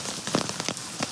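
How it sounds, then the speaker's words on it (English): Rain falls on gutters and a roof, giving a close, steady patter with sharper drips and splashes scattered through it. "the rain's coming to an end"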